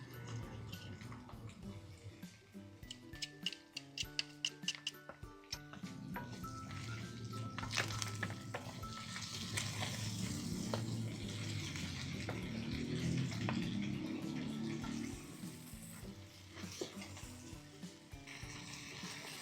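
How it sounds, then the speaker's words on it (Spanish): Tomato, onion and garlic fry in a pan for Mexican frijoles charros, giving a steady sizzle with scattered crackles and pops that builds midway and continues without talk. "Ya una vez que se frió el jitomate, la cebolla y el ajito"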